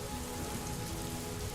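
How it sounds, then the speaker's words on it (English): Steady rain patters evenly on surfaces, a soft continuous hiss at low volume with no voices or other sounds. "the steady patter of rain"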